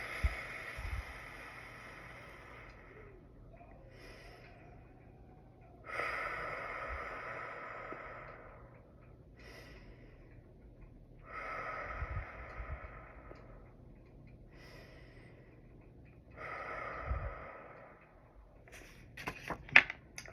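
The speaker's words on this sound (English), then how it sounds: "Breathe out." Deep, slow breaths out during a guided breathing exercise, several long airy exhalations spaced a few seconds apart, close and soft, with no talking.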